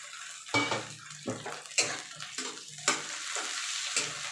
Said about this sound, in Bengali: একটু টমেটোটা পেঁয়াজের সাথে একটু মিশিয়ে ভেজে নেব